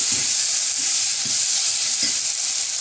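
Salt and turmeric get stirred into a sizzling frying pan of curry-leaf tempering for a cabbage coconut-milk curry, with a loud steady sizzle and several soft scraping stirs at regular intervals.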